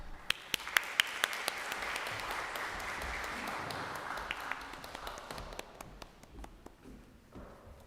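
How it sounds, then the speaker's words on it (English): An audience at a cultural arts festival gives a sustained round of applause, soft and somewhat distant, with a few sharper individual claps standing out before it tapers off near the end. "Let's give them a big round of applause."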